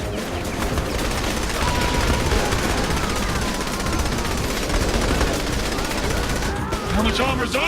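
Rapid automatic gunfire bursts from the video game Saints Row The Third, crackling continuously over a busy action soundscape with background game voices throughout.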